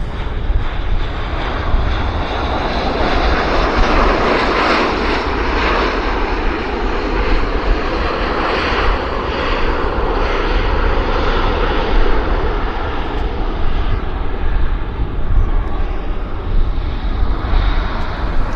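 An Air Canada Jazz airliner landing at Vancouver airport gives a steady, loud engine roar with broadband rumble and some wind noise, sustained throughout without talk.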